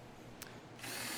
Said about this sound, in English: Now here I'm drilling my spindles, my back large spindles